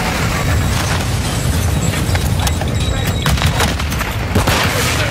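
Video game firefight with rapid, overlapping gunshots and booms crackling near and far in a dense, continuous barrage, loud throughout.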